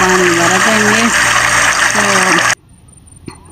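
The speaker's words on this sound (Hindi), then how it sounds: "तो बोर से पानी भरतेंगे।" Water from a home borewell pump gushes loudly into a bucket in a village house, then cuts off abruptly, leaving a quiet room.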